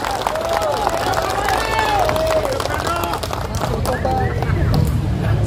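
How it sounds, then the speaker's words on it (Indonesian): A large crowd at an Indonesian workers' national rally claps in a dense, continuous patter, heard close and fairly loud, with voices talking and calling out over the applause throughout. "Kalau begitu tepuk tangan juga dong untuk Des Ketenagakerjaan."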